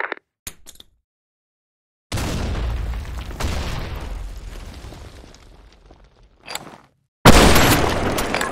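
Grenade explosions in a video game, two loud broadband booms with long rumbling tails, separated by a short silence, the second hitting hardest near the end, with small pops and clicks in between.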